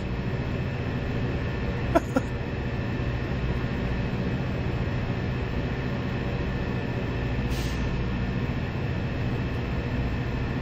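A train runs in the farming video game Farming Simulator 17, a steady low mechanical rumble throughout with two faint clicks near the start and a brief hiss later.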